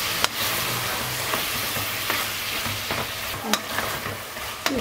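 Tomatoes and garlic frying in a pot: a continuous oily sizzle, with a few sharp clinks and scrapes from a spoon stirring through the mix.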